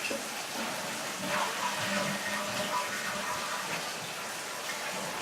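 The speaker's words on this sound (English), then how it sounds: "So we're going to leave the cold water running here" Cold water running from a tap in a kitchen and bath, a steady loud rushing flow that holds even for several seconds, close by.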